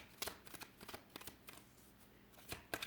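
Tarot cards being shuffled and drawn, brisk papery riffles and soft flicks arriving in quick irregular bursts, close and fairly quiet with no voices.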